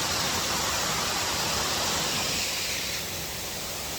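Suoi Tranh waterfall on Phu Quoc, Vietnam, a loud, constant broadband rush of falling water, close and steady, easing slightly in level toward the end.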